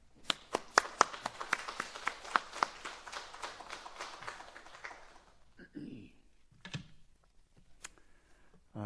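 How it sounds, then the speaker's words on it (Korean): A church congregation claps in welcome as the pastor comes forward at a Sunday service, a run of sharp claps for about five seconds that thins out into scattered claps amid quiet room noise. "예, 목사님 나오실 때 박수로 환영하겠습니다."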